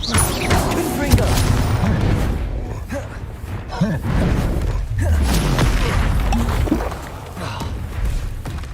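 Confringo fire blast spells in Hogwarts Legacy burst as repeated heavy booms and crackling impacts in a loud, continuous combat din, with battle effects layered over a constant rumbling bed.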